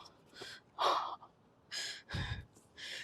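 Heavy, breathy panting from a person out of breath while moving things on a balcony, several loud gasping breaths coming in uneven bursts close to the microphone.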